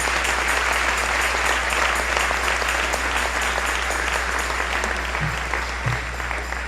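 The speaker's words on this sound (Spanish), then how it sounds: "Dale un aplauso al Señor" A church congregation applauding during a Spanish-language sermon, a steady, even roar of many hands clapping that stays loud and continuous throughout, over a constant low electrical hum.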